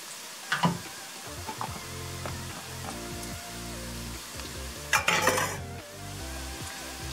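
Garlic fries in a pan, a steady sizzle running under repeated scraping and clinking from a utensil stirring it, with a couple of louder stirring bursts, close up and without talking.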